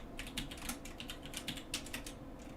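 Rapid typing on a computer keyboard, a steady run of close, crisp key clicks with no talk.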